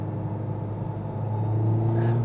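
Engine of a 2020 Honda Civic Type R fitted with a PRL intake and titanium inlet pipe, a steady close rumble that swells slightly toward the end with a rising whir.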